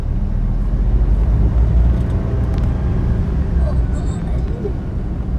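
Steady low rumble of a car cruising slowly on a road, the engine and road noise continuous and close inside the cabin, with a child and parent occasionally talking over it.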